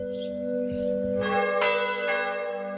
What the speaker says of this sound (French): le tintement du carillon de l'église du village de Sémery.